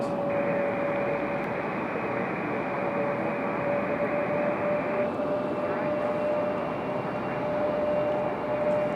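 An airliner taxis out for departure at Raleigh-Durham International after an earlier return to the gate, its engines giving a steady, loud broadband roar with a constant whine throughout and no talk over it.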